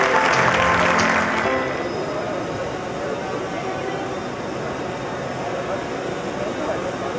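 An audience at a formal engineering council ceremony claps loudly in a dense wash that fades to steady, lighter applause, and a voice speaks over it.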